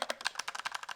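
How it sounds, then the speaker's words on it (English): Rapid typing on a mechanical gaming keyboard with red switches, a close, steady run of crisp clacks with no talking. "It's definitely a mechanical gaming keyboard."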